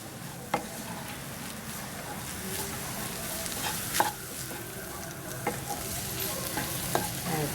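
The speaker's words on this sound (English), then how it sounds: "Just getting sauteed." Vegetables sauté in a hot pan with a steady, close sizzle. A few sharp clicks of stirring stand out at intervals, and no one speaks.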